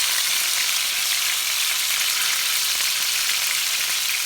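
Pork stir-frying with oyster sauce in a pan gives a loud, dense, unbroken sizzle and hiss that stays even throughout, with no talking.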